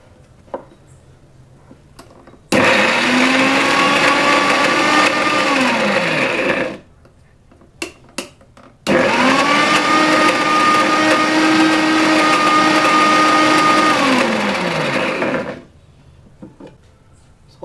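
A mixer grinder whirs loudly through ivy gourd chutney in two long bursts of about four and six seconds, each rising to a steady drone and winding down, with faint clicks and handling noises in between.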